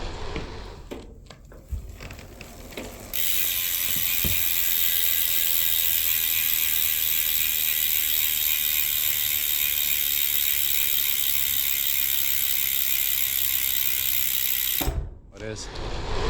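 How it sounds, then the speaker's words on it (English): Rear hub of a Trek Checkpoint Driftless bicycle freewheeling, a rapid continuous ratcheting click that starts abruptly, runs steady and close for about twelve seconds, then cuts off, with faint handling noise before and after. "If you're into a super loud clicky hub, you might want to change out the wheels and the hub."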